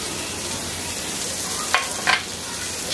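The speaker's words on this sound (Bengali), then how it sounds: "দিয়ে একটু ভেজে নিব যাতে টমেটোটা নরম হয়ে যায়" Tomatoes frying in a pan with salt for a burnt pointed-gourd mash, a loud steady hiss of sizzling oil broken by two short stirring scrapes near the end.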